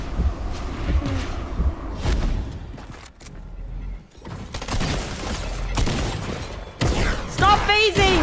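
Short bursts of SMG gunfire in the Fortnite video game, mixed with impacts and effects in uneven clusters, loud and close, with a person talking and exclaiming over it.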